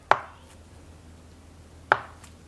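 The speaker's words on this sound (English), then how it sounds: "I'm going to cut it into maybe a half-inch slice that way" A knife slices through a block of tofu on a board for a Japanese hiyayakko dish with umeboshi and shiso, two crisp separate chops about two seconds apart, close and clear with nothing else around them.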